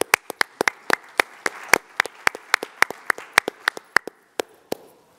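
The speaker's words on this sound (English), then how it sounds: "So a quick round of applause for BizClik Media and FinTech Magazine." A small audience at the FinTech LIVE London 2023 conference gives a brief round of applause: a couple dozen crisp, separate hand claps in an uneven rhythm, close and fairly loud, tapering off near the end with no talk over it.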